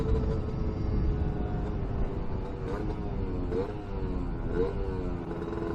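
Casa Performance SST265 motorcycle engine revs around 5,000 rpm, a steady heavy low rumble with rising pitch sweeps as the throttle is blipped, loud and continuous.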